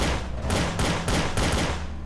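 A rapid burst of video game gunfire in Garry's Mod, roughly four or five loud, close shots in quick even succession.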